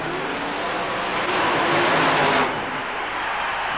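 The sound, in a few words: mud racing car braking on a run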